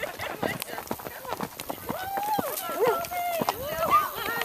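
A ridden horse's hooves beat out a quick, steady clip-clop at close range while an Illinois cowgirl rides, mixed with people talking and whooping throughout.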